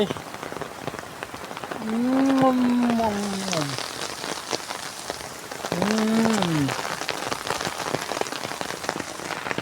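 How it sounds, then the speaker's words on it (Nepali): Hail patters densely and continuously on a surface in Butwal, while a person speaks twice over the steady drumming. "यस्तो दामी असिना परेको रहेछ"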